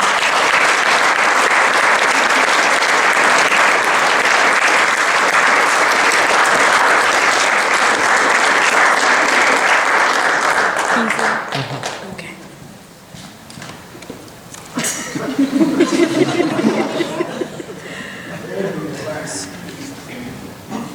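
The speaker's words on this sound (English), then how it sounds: "Please give a round of applause for our newest musicians" A crowd at a leadership society induction ceremony at Thiel College gives loud, sustained applause for new inductees, then it dies away into scattered claps, footsteps and voices.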